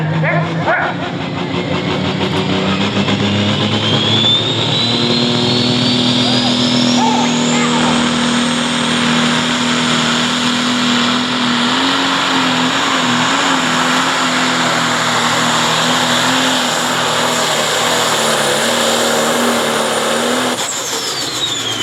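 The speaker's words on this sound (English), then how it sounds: "Running a Shipley Pro Stock engine under the hood." A John Deere 6030 pulling tractor with a Shipley Pro Stock engine roars through a pull at a truck and tractor pull in Ohio, loud and sustained with a rising pitch, under an announcer's voice.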